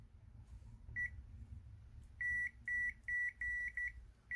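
A Zoyi VC-17B digital multimeter in continuity mode sounds a clear, high electronic beep, first once and then in a rapid series of short repeated bleeps, over faint background noise.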